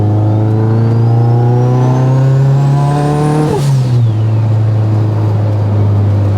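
A Mitsubishi Evo 8 engine revs steadily and loudly up to its 4,500 RPM rev limiter, the strong harmonic drone rising in pitch before the revs drop back slightly and hold.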